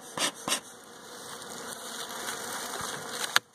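Honey bees buzzing in an open December hive, a steady close drone that builds gradually, with a few sharp knocks and clicks from handling the boxes.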